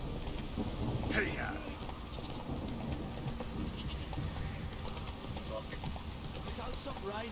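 Steady rain with rumbling thunder in the video game The Witcher 3, a continuous wash of rainfall with a louder roll near the start.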